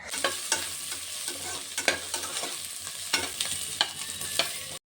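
Eggplant and tomatoes frying in oil for vangi bath, a continuous close sizzle punctuated by regular sharp clicks of a spoon stirring against the pan, with no voices.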